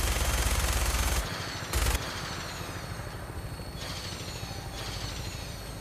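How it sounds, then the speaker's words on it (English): A minigun fires from an aircraft in Fallout 4, a loud continuous rattle that cuts off abruptly, bursts briefly again, then gives way to a steady rotor-like drone. "Your minigun should be loaded and ready to fire."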